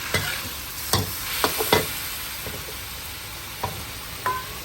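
Stir-frying in a well-used pan: scattered scraping clinks of a utensil against the pan over a steady faint sizzle, about eight irregular knocks in under five seconds, close and clear with no talking.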